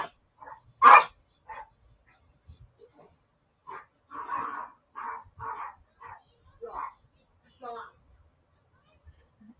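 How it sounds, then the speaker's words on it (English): A dog barks in a short burst of loud, irregular yaps at a delivery arrival, going off in several clustered volleys with a person talking in between. "My dog's going off."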